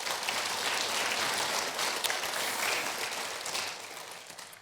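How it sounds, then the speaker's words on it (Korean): Church congregation at a Sunday afternoon service clapping in blessing and encouragement for newly committed volunteers, a fairly soft, sustained round of applause that fades slightly toward the end. "축복과 격려의 박수 할까요?"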